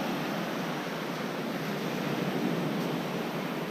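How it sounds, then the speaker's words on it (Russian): Surf washes onto a black sand beach in Bali, a steady soft hiss of breaking waves at moderate distance with no voices. "Пришли на черный пляж."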